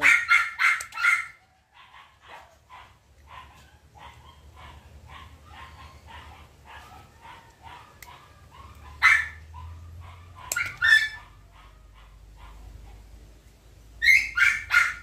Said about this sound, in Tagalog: Nagkaingay na ang mga aso.